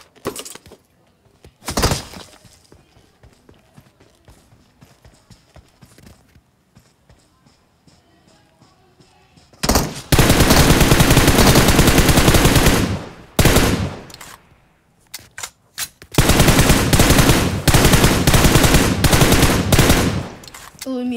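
Video game gunfire in a shootout against five or six players: a few sharp isolated shots, then long dense bursts of rapid automatic fire, loud and close, broken by short pauses.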